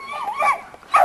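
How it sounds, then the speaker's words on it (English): An 8.5-year-old female American pit bull terrier gives a short, high whimpering yip followed by a sharper yelp, heard close in an outdoor kennel yard. "This is the dog we call Rosebud."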